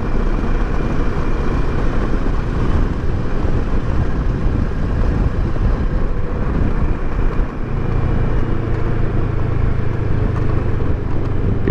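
A 2018 Kawasaki Versys 650 ABS Tourer on a highway ride, with a steady, loud engine drone mixed with heavy wind rush throughout, continuous and close without speech.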